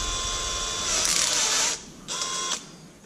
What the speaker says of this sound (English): Your drill chuck and your quarter inch ratchet extension